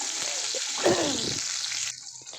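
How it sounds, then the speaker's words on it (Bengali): Cumin, onion and bay leaves sizzling in hot oil for a chicken curry, a steady broadband hiss with a brief louder crackle partway through, then thinning near the end. "সেটা এখন আমি দিয়ে দিলাম জিরে গরম করে আর পেঁয়াজ তেজপাতা"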